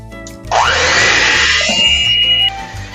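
An electric mixer fitted with a wire whisk wheel whips six eggs for sponge cake batter, switching on with a loud, steady high whir for about two seconds before cutting back to a low hum.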